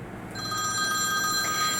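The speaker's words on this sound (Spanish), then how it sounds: "El teléfono de línea baja de mi casa sonó" A home landline telephone rings with a steady electronic bell tone, loud and close, sustained throughout after a brief quieter start.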